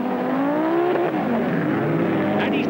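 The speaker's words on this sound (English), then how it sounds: "Ole Arnesen, the Swedish driver of the four-wheel drive Audi Quattro, the blue and white car, is in the lead." Rallycross cars race flat out at the 1985 British Rallycross Grand Prix at Brands Hatch, among them a Ford Escort and a four-wheel-drive Audi Quattro, engines wailing loud and continuous with rising and falling pitch as they pass.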